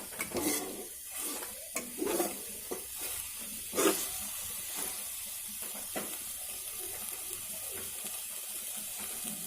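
Spice masala with coriander powder sizzles as it is stir-fried in a pan for egg khichuri, with intermittent spatula scrapes and clicks over a continuous close frying hiss.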